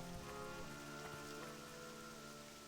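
Steady rain pattering on surfaces in World of Warcraft Cataclysm Classic at Duskhaven, a soft, even, continuous patter throughout, heard alone with no speech.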